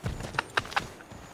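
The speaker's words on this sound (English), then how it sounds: "Hey, a horse." A horse's hooves clip-clop a few times in Assassin's Creed, with three or four crisp, close hoof strikes at a walking pace against quiet background ambience.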